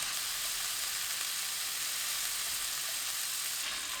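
Thinly sliced pork belly stir-frying in a hot pan on high heat, a dense, even, hissing sizzle that holds steady throughout without speech.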